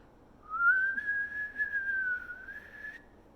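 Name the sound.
person whistling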